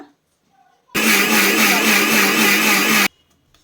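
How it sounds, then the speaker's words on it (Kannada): A mixer grinder whirs loudly for about two seconds, blending cake batter flavored with vanilla essence, starting and stopping abruptly with quiet room sound on either side. "ಇವಾಗ ಇದನ್ನು ಚೆನ್ನಾಗಿ ಗ್ರೈಂಡ್ ಮಾಡ್ಕೊಳ್ಳೋಣ"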